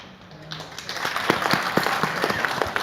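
Audience applause greets a speaker's call to ban political television advertisements, building after a quiet start into steady dense clapping with sharper individual claps standing out, moderately near.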